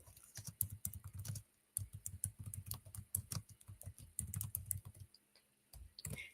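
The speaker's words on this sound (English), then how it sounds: "I'm typing it in." Steady clatter of keys on a computer keyboard, fast irregular taps in bursts with brief pauses, close and clear with no talking.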